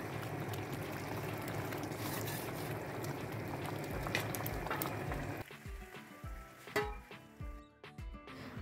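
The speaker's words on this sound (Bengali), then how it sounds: "চিকেন সিদ্ধ হয়ে গিয়েছে, আর একটু ঝোলটা কমিয়ে নিব।" Chicken korma gravy with green chillies simmering and reducing in a pot, a steady dense bubbling and sizzling for about five seconds, then thinning into sparse individual pops and spits toward the end.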